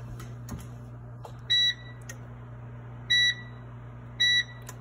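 An oven timer being set while baking a German poppyseed roll, giving three short electronic beeps spaced over a few seconds above a steady low kitchen hum, with faint clicks of buttons.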